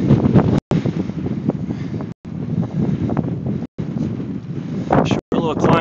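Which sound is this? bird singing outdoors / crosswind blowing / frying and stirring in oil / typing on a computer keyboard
crosswind blowing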